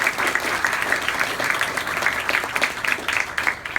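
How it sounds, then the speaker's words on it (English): Steady audience applause at a community gratitude talk honouring the event organisers, a dense wash of many hands clapping throughout, loud and continuous with no pause. "can we have a big round of applause for them?"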